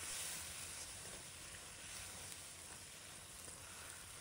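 Chicken with green and red chilies stir-frying in a wok, giving a steady, fairly quiet sizzle and hiss that runs evenly throughout, with no voices.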